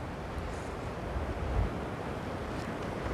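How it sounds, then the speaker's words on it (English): Steady wind roars with sea waves washing continuously at a port by a nature reserve on a windy day, a dense, even rush with no talking. "it's pretty windy day today"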